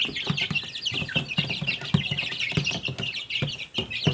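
Young chicks kept in a small cage peep and cheep constantly, close and clear, with short chirps tumbling over one another, a few soft clucks, and no talking.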